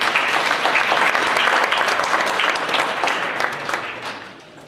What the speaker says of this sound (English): just give him a round of applause for that